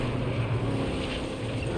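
Aircraft roaring in the video game Battlefield 6, a steady dense engine drone with low rumble that stays loud and constant throughout, with no talking.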